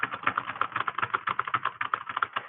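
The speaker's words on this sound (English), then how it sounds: "And then I hit space and then start typing again." Fast, steady typing on a computer keyboard, a dense run of light plastic key clicks, close and clear, with no talk.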